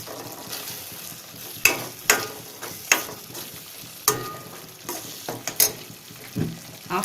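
Curry leaves hit hot oil in a pan of dried fish thokku, giving a crackling sizzle with irregular sharp pops and stirring scrapes throughout, no voices.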